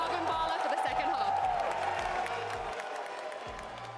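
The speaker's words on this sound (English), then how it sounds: "Make some more noise for Crew, everyone" Crowd at a Valorant Champions 2023 esports watch party cheering and applauding loudly and steadily throughout, with whoops mixed in and an amplified host voice speaking over the noise.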